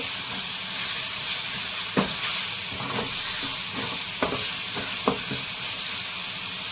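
Masala for a prawn curry fries in a pan with a continuous hiss and sizzle, broken by several sharp scrapes and taps of a spoon as it is stirred.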